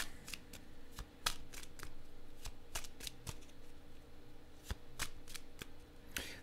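A deck of playing cards is shuffled by hand in a quiet room, a run of quick crisp riffles and snaps at irregular intervals, close and fairly faint.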